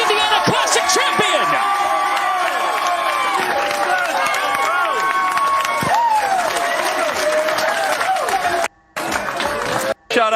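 A bowling crowd at a PBA Indiana Classic final cheers and applauds loudly and continuously, with whoops and shouts over dense clapping and a voice talking through it.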